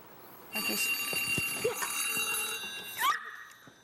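A telephone rings in a house setting, a bright electronic trill that runs steadily for about two and a half seconds, then breaks off with a short rising chirp and fades.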